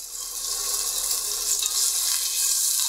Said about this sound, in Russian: и хорошо сейчас все обжарим